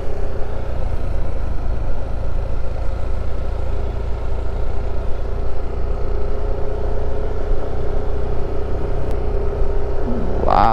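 Steady motorcycle engine rumble while riding along a road in Currimao, Ilocos Norte, loud and continuous with a low droning tone and no speech.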